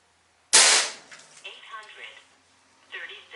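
AEA .357 air rifle charged to 4500 psi firing a 140 grain slug, a single sharp loud report with a brief ringing tail, followed by someone speaking.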